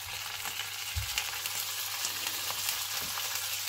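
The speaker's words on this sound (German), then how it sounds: "kleinen Rouletchen anbraten." Small meat roulades sear steadily in a hot pan, a continuous crackling hiss with occasional soft clinks, no talking.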